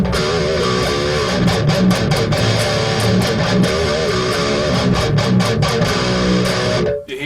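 An electric guitar runs through a SansAmp PSA 1.1 preamp, giving a dense, aggressive distorted tone with rapid picked notes and chugging attacks that play continuously, then cut off abruptly near the end.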